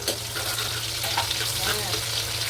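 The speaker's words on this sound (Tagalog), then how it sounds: "Maggisa na tayo ng bawang." Garlic sautés in a pan, giving a steady, close crackling sizzle with a soft stirring scrape throughout.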